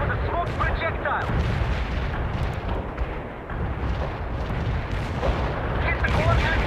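Artillery strike in the real-time strategy game World in Conflict: continuous rumbling booms and heavy blasts, loud and dense throughout with no pause, and faint radio-style voices mixed into the barrage.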